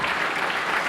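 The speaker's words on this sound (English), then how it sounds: "Great move, and the crowd appreciating this matchup" A wrestling crowd at a tag team match claps and cheers in a steady, dense roar of applause after a head scissors takedown, loud and continuous throughout with no gaps.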